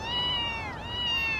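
A kitten meows in a long, high, drawn-out cry, loud and close, wavering in pitch with a brief dip partway through.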